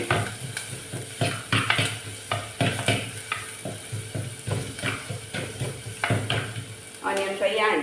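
Onions frying in a pan for a dried fish curry, a constant sizzle under repeated scraping and stirring strokes of a utensil against the pan, with a brief clatter near the end.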